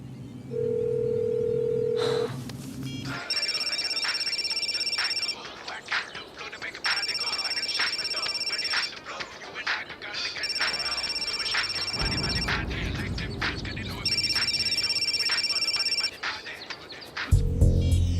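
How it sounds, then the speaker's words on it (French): A telephone rings repeatedly in steady bursts separated by short pauses, loud and close, with a low hum beneath and brief other sounds before and after, during an animated series episode. "Allez Ulrich, réponds, réponds"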